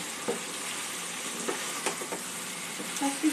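Jackfruit and spices stirred in a hot pan, a continuous soft sizzle broken by several scraping strokes of the spoon, close and fairly quiet with no talking.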